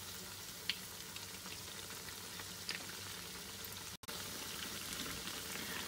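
Potato hash browns fry in a pan with a steady, dense sizzle, softly crackling throughout and broken only by a brief moment of silence.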